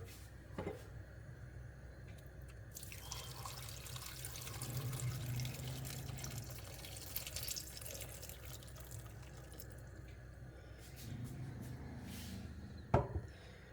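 Water pours steadily into a pot with a soft splashing hiss, a few clinks of metal near the start and a sharp knock near the end.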